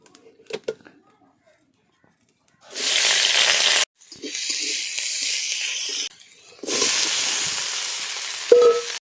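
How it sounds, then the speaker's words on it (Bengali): Onions frying and sizzling in a pan over a fierce flame, heard in loud hissing bursts broken by short silences, with a couple of faint knocks at the start. "পেঁয়াজটা ভাজা ভাজা করতে হতো কিন্তু একদম পুড়ে উঠছে"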